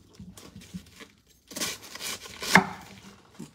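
Knife slicing through a large head of cabbage: a few crisp chopping and tearing strokes, close and moderately loud, with quiet pauses between cuts.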